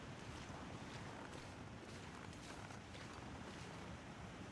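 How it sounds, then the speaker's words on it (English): Steady, faint rushing water from a waterfall in the video game The Long Dark, like a distant waterfall, constant and unchanging throughout with no voices. "There's the waterfall we were hearing."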